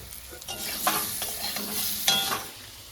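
Spices frying in oil with turmeric and salt for a mrigel fish and taro curry, a soft steady sizzle with a couple of louder scraping stirs close by, no voices.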